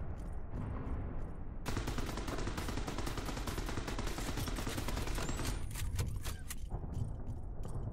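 Rapid automatic gunfire erupts in the space game Spacebourne 2, starting after a short quieter stretch and hammering on in loud, tightly packed bursts before easing near the end.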